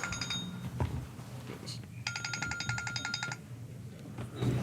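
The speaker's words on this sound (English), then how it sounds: "the timer went off" A timer alarm goes off in a room during a public meeting, giving a rapid run of electronic beeps that lasts about a second and a half over low background noise, with brief murmurs nearby.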